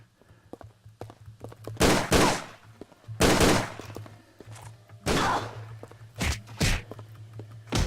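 Gunfire from the Tomb Raider: The Angel of Darkness video game, with several loud broadband bursts spaced a second or so apart over a steady low hum, and small thuds and footsteps in between.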